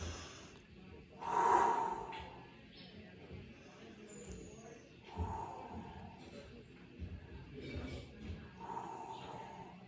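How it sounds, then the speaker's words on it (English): Slow, deep breaths taken while holding a quadriceps stretch, one loud drawn-out exhale followed by softer, quieter inhales and exhales, close-miked in a quiet space. "we'll take a few breaths in this position"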